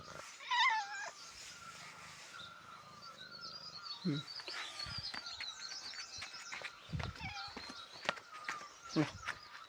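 Cat making a few scattered meows and small vocal sounds amid quiet shuffling and movement, fairly faint and close, with a person's coaxing voice now and then.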